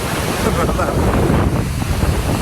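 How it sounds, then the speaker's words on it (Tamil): Strong wind blasts across the Megamalai hills, roaring steadily and buffeting the microphone in a loud, continuous rush with no pauses. "ஏன்னா காற்று பயங்கரமாக இருக்குங்க."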